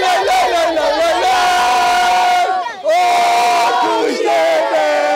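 Football supporters in Istanbul's Kuştepe neighbourhood chant together in a loud, sustained sung "la la la" melody, close and energetic, briefly dipping before the crowd resumes in unison.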